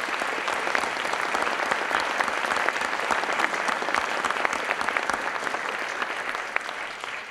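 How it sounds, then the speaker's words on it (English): An audience claps steadily through a round of applause honoring veterans at a city Veterans Day ceremony in Carmel, dense and sustained with no voices over it. "Let's give them a round of applause."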